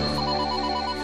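A telephone ringing steadily and loudly in an indoor home setting, one continuous electronic ring tone with no voices over it.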